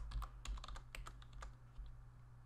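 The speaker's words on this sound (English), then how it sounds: "you can also search by typing in the search box" Computer keyboard keys tapped in a quick, uneven burst while entering a search into a book library search box, close and clear with a steady low hum underneath.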